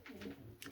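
A pigeon coos once in a breeding loft, a short, soft, low murmur close by with nothing else heard.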